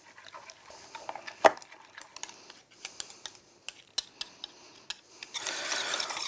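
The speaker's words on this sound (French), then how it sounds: "On va bien fouetter jusqu'à obtenir un mélange bien lisse, bien homogène." Waffle batter with egg being whisked by hand in a bowl, producing irregular quick metallic clicks and scrapes that end in a brief burst of rapid, steadier whisking.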